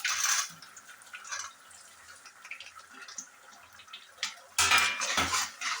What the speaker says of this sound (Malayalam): ഇതിനകത്തോട്ട് നമുക്ക് തേങ്ങാക്കൊത്ത് ഇട്ട് കൊടുക്കാം